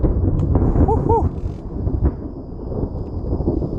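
Thunder rumbles through a stormy outdoor bike trail ride, a loud broadband roar filling the first second and a half before settling into a lower continuing rumble with wind noise, a brief whoop of a voice near the start.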